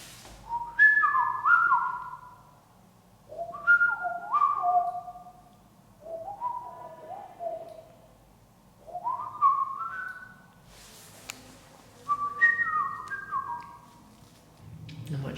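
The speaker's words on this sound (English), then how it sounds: "I'm going to try whistling again" A person whistling in an empty cell of an asylum for the criminally insane, five short melodic phrases separated by pauses, clear and fairly near in a quiet room.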